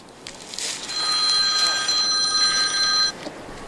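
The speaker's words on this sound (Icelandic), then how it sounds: "Það er síminn til þín." A telephone rings in short, bright electronic trills that repeat for about two seconds over steady outdoor wind noise. It is moderately loud, and no one is talking over it.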